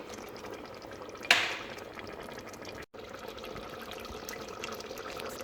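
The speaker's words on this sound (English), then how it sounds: "Now, the tikka masala is bubbling away happily, and so is my rice." Chicken tikka masala with double cream pouring and bubbling in a thermal cooker pot, a brief louder splash early on, then a steady wet simmer with a short gap of silence.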